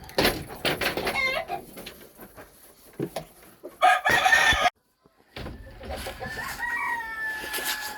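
Game hens and roosters being readied for brood season cluck and crow close by, with repeated crowing calls and busy clucking, a brief pause of silence midway before the birds resume.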